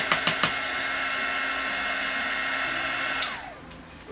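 A heat tool blows steadily at close range while heat-setting embossing powder on a card, a loud continuous airy whir with a few light clicks at the start, winding down as it is switched off near the end.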